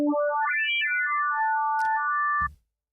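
The Additive Twin wavetable synth in Arturia Pigments plays a quick, bright, tonal melodic run that rises and falls in short stepped notes, clean and close, ending with a soft click and thump as it cuts off.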